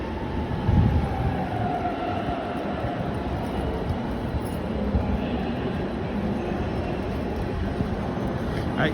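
A train rumbles through a Berlin station with tracks above and below, a broad, steady rolling roar filling the space continuously, with a faint screech and a closer clatter near the end.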